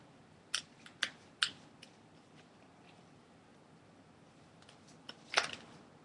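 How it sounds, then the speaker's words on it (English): A regular deck of playing cards being shuffled, heard as a few sharp crisp riffles and snaps in a quiet room, with a cluster early on and another burst near the end, no talking. "I'm gonna shuffle."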